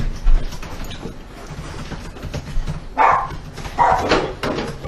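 Dogs barking, a few sharp barks close by in quick succession near the end, over low indoor background noise.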